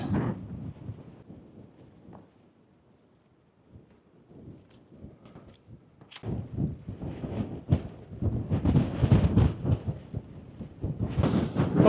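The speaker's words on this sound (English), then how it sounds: "it's windy up here too" Gusty wind on a hilltop near Brean Down buffets the microphone in low rumbling bursts, fading briefly before returning stronger and more continuous.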